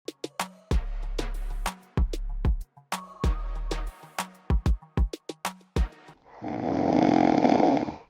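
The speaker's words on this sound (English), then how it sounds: "him did a sleep and a snore like a bulldozer" Loud, exaggerated cartoon snoring from a sleeping character in an animated comedy: several long rumbling snore cycles with short gaps between them, then a broad, noisy final exhale.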